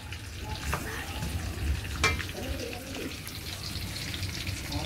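Onion fries in a pan for chicken adobo, giving a continuous close sizzle with a few clinks and stirring sounds and a faint trickle of water, no talking.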